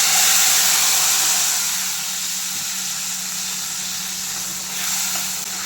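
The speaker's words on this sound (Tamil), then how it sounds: "அந்த புளி தண்ணியை இதில் ஊற்றுறேன்." Tamarind water poured into hot oil in a pan gives a loud hissing sizzle that starts strong, settles into a steady fizz, then swells briefly again.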